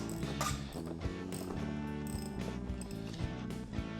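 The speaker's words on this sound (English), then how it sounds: "It's a number 5 bit on a ratchet." A ratchet fitted with a number 5 bit works on seat track bolts from a Porsche 914 seat, making rapid, close clicking with irregular bursts and faint creaks, without any talk.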